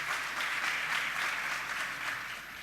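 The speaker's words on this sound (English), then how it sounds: "Please round of applause for our judges, everybody." An audience at a creative competition event in Beirut applauds the judges, with dense, sustained clapping holding steady at a strong level from start to finish.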